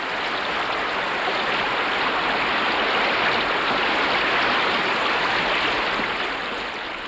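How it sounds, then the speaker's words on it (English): Water rushes in a steady, loud, broadband torrent as a beaver dam gives way and floods, continuous throughout before easing slightly at the very end. "Giving way, the dam unleashes a torrential flood, summoning the beavers from their lodge."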